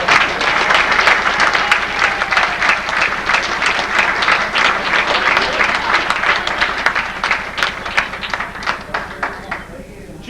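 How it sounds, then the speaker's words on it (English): Applause at a fire department honors event for two women marking forty years, a long, lively round of clapping from a crowd with voices mixed in, tapering toward the end. "I think they need a round of applause"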